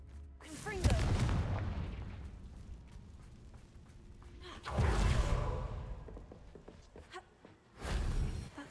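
Confringo fire spell explosions in Hogwarts Legacy on PC, three booming low blasts with rumbling tails spaced a few seconds apart, moderately loud.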